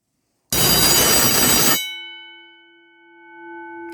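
An old fire alarm bell, over four decades without operating, rings loudly for just over a second during a demo test, then stops abruptly and leaves a clear metallic ringing tone hanging and slowly fading.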